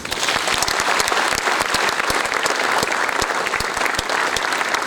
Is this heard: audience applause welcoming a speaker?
yes